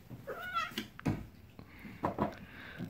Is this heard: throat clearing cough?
no